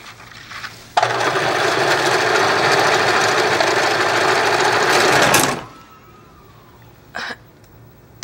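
A sewing machine runs hard and noisily in a basement workshop, a loud steady mechanical roar lasting several seconds before stopping abruptly, followed by a brief clunk.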